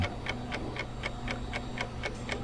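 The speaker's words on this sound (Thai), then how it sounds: "นาฬิกาบนผนังเดินช้า ราวกับเวลาหยุดนิ่ง" A wall clock ticks alone and quietly, about nine evenly spaced crisp ticks at a steady rhythm.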